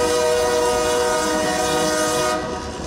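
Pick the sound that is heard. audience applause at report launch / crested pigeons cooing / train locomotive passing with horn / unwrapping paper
train locomotive passing with horn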